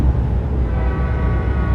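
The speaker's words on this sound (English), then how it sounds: "Train." A train passes in an American truck driving game, heard as a steady low rumble with a faint sustained horn tone above it, heard from inside the truck cab.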